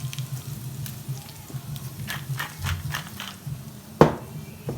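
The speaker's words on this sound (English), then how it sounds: "And that's the sound that you want, that sizzle" Potatoes tipped into hot fat in a roasting tin for roast chicken legs sizzle steadily close by, with soft stirring crackles and a sharp metallic clatter near the end.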